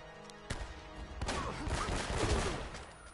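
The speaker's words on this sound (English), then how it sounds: "Where's the grenade launcher coming from?" Grenade launcher fire in Uncharted: Drake's Fortune: two sharp reports followed by a broad, rumbling blast that swells and lingers loudly in a chaotic firefight.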